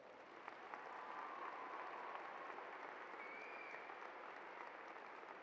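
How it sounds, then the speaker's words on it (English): Applause at a high school commencement for the standing graduating FFA members, a faint, even wash of many hands clapping heard from a distance across a large venue, steady for the whole stretch. "Please join me in giving them a round of applause."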